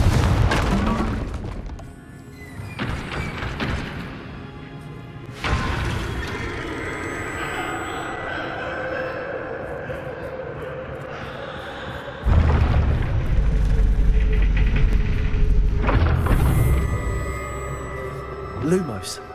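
Blasting-curse explosions from the Confringo spell in Hogwarts Legacy hit as heavy booms, with a big rumbling blast midway, surrounded by scattered crackles and game sound effects.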